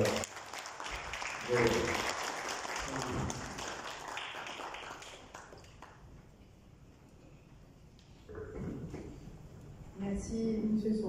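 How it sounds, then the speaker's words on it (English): Audience applause at an award ceremony in Mauritius honouring heroes: a dense wash of clapping for about five seconds that fades into quiet, followed by a short burst of further sound near the end. "I would like again to applaud our heroes today."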